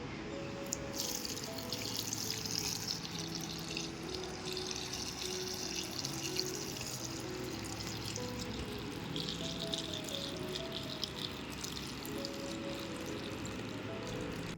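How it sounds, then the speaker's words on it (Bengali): Tender okra is rinsed under running water in a kitchen, a soft steady flow with light splashing and dripping, faint and continuous with no voices. "এটাকে কিন্তু ভালোভাবে জল দিয়ে ধুয়ে নিতে হবে"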